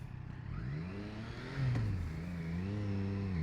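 A 2020 Triumph Street Triple RS motorcycle engine revs in neutral, its pitch sweeping up and down in a couple of loud, close throttle blips over a steady idle, with no talking.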